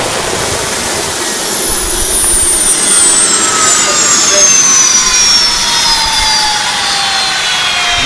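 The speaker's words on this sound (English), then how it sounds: "It's still shooting flames." A malfunctioning HVAC unit roars while shooting flames, a loud, continuous, close rushing blast with a whining tone that slowly falls in pitch.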